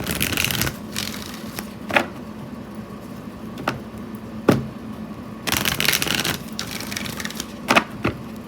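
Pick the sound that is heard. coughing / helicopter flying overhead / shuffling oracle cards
shuffling oracle cards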